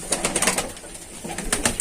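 Turkish play pigeons coo in soft, repeated bursts with fluttering wing noise, fairly close and steady over a faint background.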